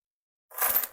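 A single short jingle of coins handled for cash stuffing, close by, lasting about half a second.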